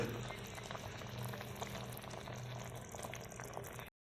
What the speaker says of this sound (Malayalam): നമ്മുടെ പോത്ത് പെരട്ട് നല്ല ഗുളു ഗുളാന്ന് പറഞ്ഞ് തിളയ്ക്കുന്ന സൗണ്ട് കേട്ടില്ലേ